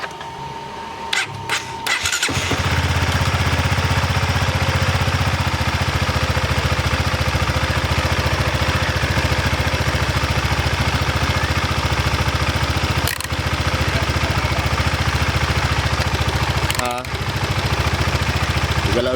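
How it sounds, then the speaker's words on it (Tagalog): A Honda CBR 150 motorcycle engine cranks and starts after brief handling noises, then runs at a loud, steady idle close to the microphone with a few short dips. "Pandarin natin tong motor na to."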